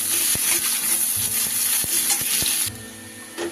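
Chopped onion sizzling in hot oil with cumin and a bay leaf, steady frying hiss with repeated scraping knocks of a spoon stirring in the pan, close and fairly loud, easing off near the end.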